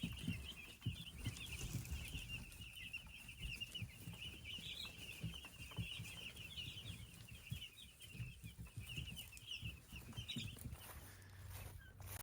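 Cornish Cross chickens out on fresh pasture grass, a flock giving a continuous low murmur of clucks and soft chirps, with occasional wing flutters, moderately close and fairly quiet.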